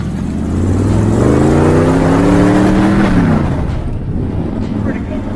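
A rat rod car drives along with a loud, continuous engine drone that rises and falls as it revs, close and dominant throughout.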